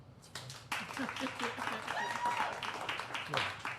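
A small studio audience claps for podcast guests joining the hosts. The applause is scattered and then builds into a quick, fairly close patter that runs to the end, with voices talking underneath.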